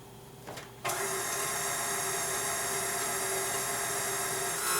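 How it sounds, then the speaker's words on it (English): An electric mixer starts up and runs steadily, beating egg yolks with sugar and nutmeg for a double batch of spiked eggnog, a constant whirring hum that continues alone at close range. "I'm going to go ahead and get the mixer going"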